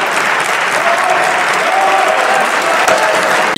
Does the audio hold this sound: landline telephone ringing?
no